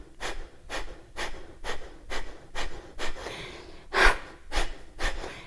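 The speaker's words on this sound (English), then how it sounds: "press the elbows back and forcefully exhale" Forceful pranayama exhalations in a yoga breathing exercise, a steady series of about eight sharp breath bursts pushed out roughly every half second, close and clear with no talk.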